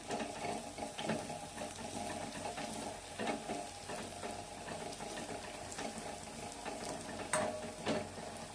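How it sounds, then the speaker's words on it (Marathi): Turmeric being stirred into sautéed garlic in a pan while cooking limbu mirchi: a faint, steady sizzle with soft scraping stir strokes and occasional light clinks, no talking. "आता थोडी हळद टाकायची आणि मिक्स करून घेऊ"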